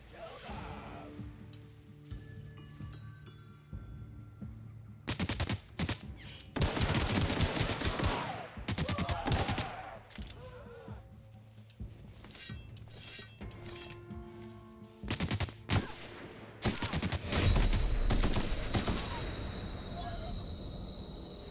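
Bursts of assault rifle fire from the video game The Outer Worlds, several sharp rapid volleys spaced apart over a low ambient game background, with a voice talking between the bursts.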